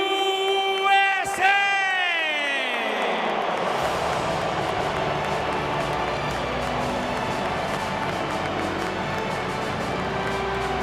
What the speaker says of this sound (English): let's hear a big round of applause for USA!